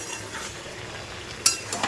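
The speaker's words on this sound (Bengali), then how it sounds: "বড়ি দিয়ে কাঁঠালের বীজ দিয়ে যেটা হয় ডাটা দিয়ে সমস্ত সবজি দিয়ে একটা তরকারি করছি ভাজা মশলা দিয়ে" Vegetable curry with jackfruit seeds, lentil dumplings, stems and fried spices being stirred in a pan, a faint steady sizzle and scraping with a brief sharp clink of a utensil near the end.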